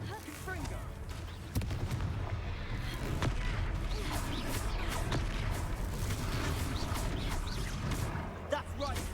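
Fiery Confringo spell blasts go off during a Hogwarts Legacy battle, a dense, loud rumble of booms and crackling impacts under game voices and combat noise.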